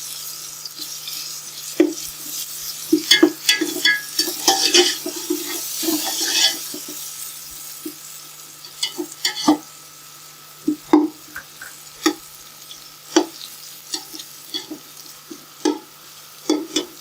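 A heaping tablespoon of garlic fries in a pot for vegetable pulao, a faint sizzle under repeated sharp scraping and stirring clatter, close up with no voices.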